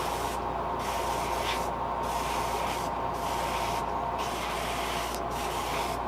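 Spray gun laying pink paint coats on a custom fishing lure: a continuous close hiss broken into several bursts by brief pauses, steady and fairly loud with no voices.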